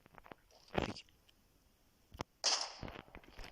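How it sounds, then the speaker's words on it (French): A pistol fires in the video game PUBG, two or three sharp, fairly quiet cracks spaced apart, each with a brief tail, over low background sound. "Je voulais juste tirer pour voir si ça faisait beaucoup de bruit"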